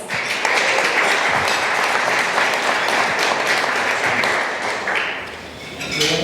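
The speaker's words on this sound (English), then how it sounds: "Round of applause." Applause fills a room at a monthly luncheon, a steady, fairly loud clapping from a seated crowd that holds for several seconds before thinning out.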